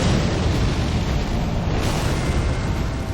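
A ground fire explosion in the video game Elden Ring, up in the mountaintops, rumbles as a loud, sustained roar of deep boom and crackling blast that fills the whole stretch without letup.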